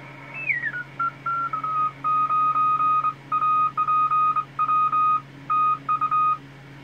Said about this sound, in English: Ooh, whopping CW signal there.